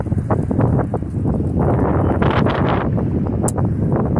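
Steady wind of about 4-5, by a horizontal wind turbine, buffets the microphone with low rumbling gusts throughout, close and fairly loud, no voices.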